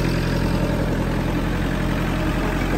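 A Farmtrac Atom 35 tractor's four-cylinder engine idles steadily, a loud, even low rumble with a constant throb and no talk over it.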